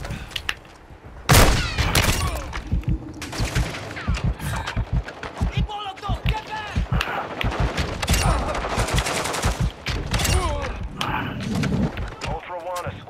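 Shotgun blasts and other gunfire ring out in Call of Duty Modern Warfare on the Al Mazrah map, loud and close, with bursts of shots and booms, mixed with game voices and player chatter.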